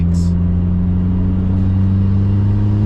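A turbocharged car engine pulls hard and loud close by, keeping up a steady deep rumble as it accelerates. The note climbs and holds at around 3,000 RPM, with no voices over it.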